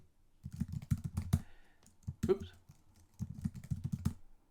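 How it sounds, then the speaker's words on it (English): Someone types a first name on a computer keyboard in two quick bursts of soft, close key clicks, separated by a short pause with a mouse-like click. "So your name, you're going to type in your first name,"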